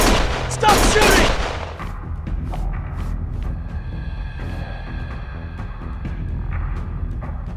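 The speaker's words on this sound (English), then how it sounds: "Stop shooting!" Gunfire erupts in a dense, loud burst of rapid shots at first, then gives way to scattered, fainter reports and rumbling under a tense, noisy scene in a game.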